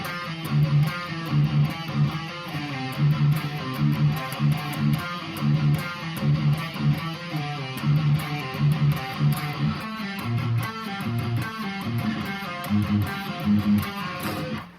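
A distorted electric guitar plays a repeating riff from a song with steady rhythmic picking, loud and continuous, with no voices.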